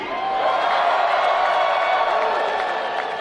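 Dense crowd roar at a GCW wrestling show at the American Dream mall, a steady, loud wash of voices and cheering that holds level throughout without a clear break.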